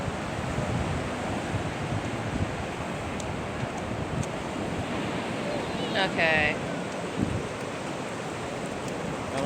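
Ocean surf washing onto a beach as the tide goes out, a steady broad rush mixed with wind buffeting the microphone, with a brief spoken word partway through.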